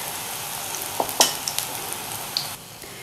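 Spinach kebabs fry gently on low heat in a pan, giving a soft steady sizzle with a few small pops and crackles, close and unaccompanied.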